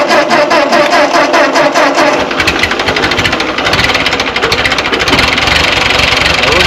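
Ford 8N tractor engine starting with the choke set: a loud, close, rough chugging with rapid knocking pulses that catches and settles into a steady, uneven running rhythm.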